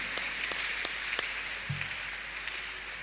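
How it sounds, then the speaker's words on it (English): A congregation claps during a church miracle service, scattered hand claps coming through faintly at a distance over a steady background hiss. "Clap your hands unto God of the choosing."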